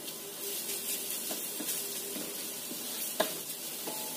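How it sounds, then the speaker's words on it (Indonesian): Garlic and carrots stir-frying in a pan give a soft, steady sizzle with a few light scraping clicks of a utensil, faint and close, with no voices. "Ini kita tumis duluan wortelnya biar layu atau matang duluan."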